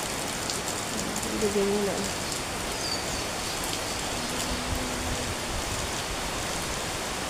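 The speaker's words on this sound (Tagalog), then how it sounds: "It's so raining." Rain pours on a dark, cold Tuesday morning, a steady even hiss of drops on surfaces throughout, with a short spoken phrase heard briefly over it.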